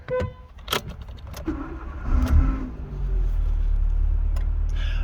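Nissan Micra K12 with a Renault engine at 123,000 miles starting and pulling away: clicks and a key jangle, then the engine catches and settles into a steady, smooth hum up close.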